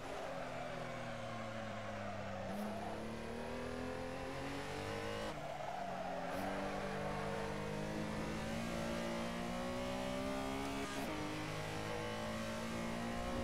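Race car engine lapping the Nurburgring GP circuit in a racing video game, revving steadily with rising and falling pitch through gear shifts, loud and continuous with no talk.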